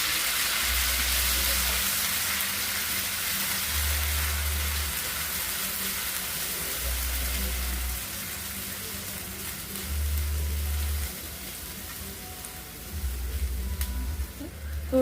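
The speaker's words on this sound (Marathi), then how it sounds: "छान परतला की आपली जी प्युरी आहे ती प्युरी तुम्हाला टाकायची" A mushroom masala base sizzling in a pan as tomato puree goes in, with steady frying hiss broken by repeated low thumps of stirring, close and moderately loud, no voices.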